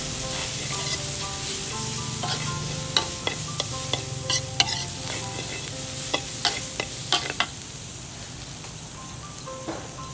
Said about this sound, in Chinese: 然后放点鱼露，稍微翻炒一下。